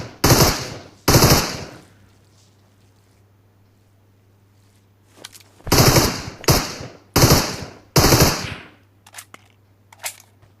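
Gunfire in the mobile battle royale game PUBG Mobile on the Erangel map comes as loud, close bursts of rapid automatic shots, two at the start and a cluster of four later, with fainter single shots between and a low engine hum.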